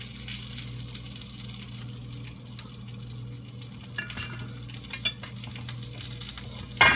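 A sausage fries in a pan with a steady, close sizzle throughout, joined near the end by a few sharp clinks of utensils or glass against the cookware.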